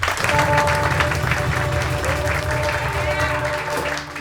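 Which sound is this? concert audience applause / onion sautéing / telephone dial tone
concert audience applause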